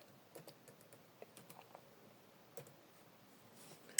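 Keys on a computer keyboard are typed in a quiet, irregular run of soft clicks while a document name is entered, ending with a sharper final keystroke.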